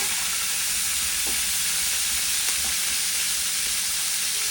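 Ginger goes into a hot pan for Shahi Cauliflower and sizzles in a steady, loud, close hiss throughout, with a few faint clinks of stirring.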